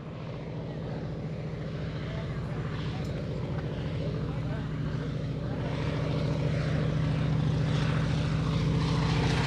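A propeller airplane drones steadily overhead at an airshow during a wingwalking act, its engine loud and continuous, growing slightly louder as it passes, with a person talking over it.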